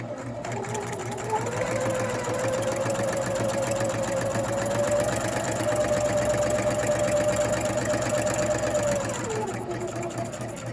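Sewing machine running a forward line of stitches to the edge of the fabric in one continuous steady whir lasting about ten seconds, close and fairly loud, with no voices.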